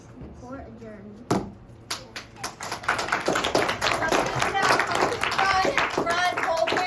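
Audience at a school law fair mock trial breaks into applause after the verdict, starting with a few sharp claps and swelling into steady, dense clapping that holds to the end.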